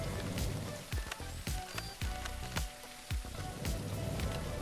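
Steady rain in the game Leaf Blower Co. patters over the game soundtrack, with a string of soft repeated thuds cutting through the continuous hiss.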